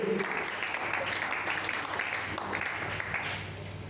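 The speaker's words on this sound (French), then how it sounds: "Acclamons pour la parole du Seigneur." Congregation applauding during an evening church service, a steady wash of clapping that fills the whole clip at moderate volume and eases slightly toward the end.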